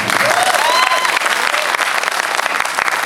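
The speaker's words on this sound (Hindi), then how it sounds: "तो थोड़ी सी तालियां और भी बजा दो." Loud, dense applause from a crowd after a performance at a freshers' event, with a few faint whistles rising over the clapping near the start.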